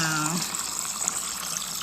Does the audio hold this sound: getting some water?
yes